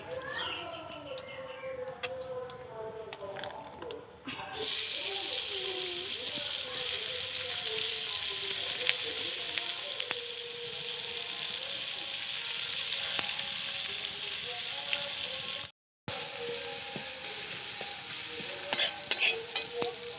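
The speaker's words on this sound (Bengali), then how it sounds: "আমি এতে এবার তেল দিয়ে দেবো, দিয়ে ভালো করে এবার পেঁয়াজ আদা রসুন এগুলো সব ভাজবো" Onion, ginger and garlic fry in hot oil for a Bengali pointed gourd and prawn curry, a steady close sizzle with occasional stirring scrapes; a brief dropout interrupts it, and a voice speaks over the cooking.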